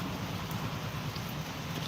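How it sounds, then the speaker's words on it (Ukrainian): Soft, steady rain patters on a surface, a dense, even hiss with faint low rumble, no talking. "Так, дощик раз то бачу поправляється."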